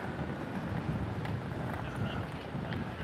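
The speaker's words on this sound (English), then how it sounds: "let's see how windy it is here" Constant wind in Benidorm buffeting a microphone, a dense low rumble that stays loud throughout with faint higher noise on top.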